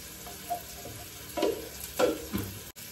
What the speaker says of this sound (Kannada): ಈರುಳ್ಳಿ ಸ್ವಲ್ಪ ಆಯಿಲಲ್ಲಿ ಫ್ರೈ ಆಗಬೇಕು